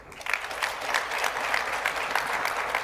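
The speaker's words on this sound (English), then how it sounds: "Clap if you don't believe." Audience at a travel-industry executive panel breaking into loud, sustained applause for the non-believers, a dense, even roar of many hands clapping close by that swells quickly and holds steady.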